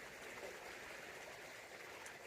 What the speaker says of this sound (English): listen to the trickling